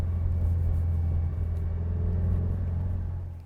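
A Subaru WRX out on a drive, its engine giving a steady low rumble from inside the car, loud and continuous before easing off at the end, with no talk.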